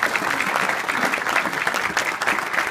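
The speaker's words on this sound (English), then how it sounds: "you can do a little round of applause" Audience at the British Comic Awards 2014 applauding a Hall of Fame inductee, with steady, dense clapping that stays loud and close throughout and has no talk over it.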